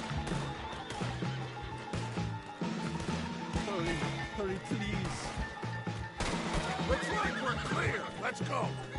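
In the Red Dead Redemption 2 video game, horses whinny and hooves clip-clop amid busy action noise, with people talking throughout and occasional crashes and distant shots.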